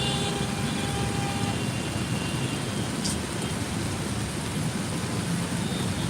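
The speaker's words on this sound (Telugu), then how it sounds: "మస్తు పడుతుంది వర్షం" Heavy rain pours down in Hyderabad, a steady, dense broadband roar that holds at an even level for the whole stretch with no voices, cars passing faintly in flooded streets nearby.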